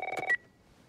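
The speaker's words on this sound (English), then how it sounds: "इतनी रात में कोई फोन कर रहा है" Telephone dialing tones in The Last of Us Part 1 video game, a quick run of about six short electronic beeps, close and clear, then silence.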